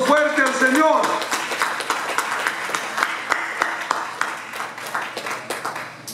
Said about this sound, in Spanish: ¿Cuánto le dan un aplauso fuerte al Señor?